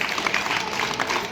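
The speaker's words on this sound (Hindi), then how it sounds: "तो ताली तो बजा दो यार।" Crowd applause at a Delhi 2025 election campaign meeting in Patel Nagar, a dense, steady clatter of many hands clapping close by for the full stretch with no words spoken.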